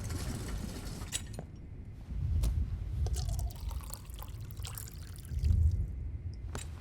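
Water poured and dripping in a quiet room in Life Is Strange, soft liquid trickles and splashes with a few sharp drips, faint and steady over several seconds.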